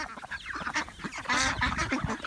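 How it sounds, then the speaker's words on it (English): Fawn and white runner ducks call close by with a busy run of loud, overlapping quacks and honks that keeps up steadily without a break, and no one speaks. "The white and I believe it's fawn runner ducks."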